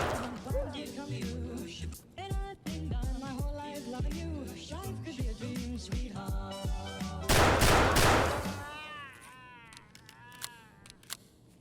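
Escape from Tarkov gunfire cracks out in bursts over a long stretch of talk, with a louder, dense volley near the middle and sparser sounds trailing off afterward.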